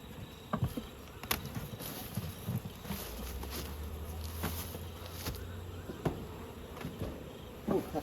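Honey bees buzz around a hive box on a trailer while moving the Crossmaglen beehives, a steady insect drone with scattered nearby thumps and knocks throughout.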